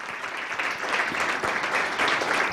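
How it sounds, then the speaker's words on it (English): A technology-event audience gives a steady round of applause, many hands clapping in a dense, moderately loud wash that continues for the full two and a half seconds. "let's give him a wonderful round of applause"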